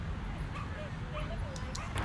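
Dogs at a busy dog park in Stockton yip and whimper faintly amid a constant wash of outdoor noise and distant voices.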